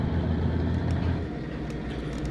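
Engine of a Marcopolo Viaggio G4 bus in a video game mod, a steady, loud low rumble that drones on without a break.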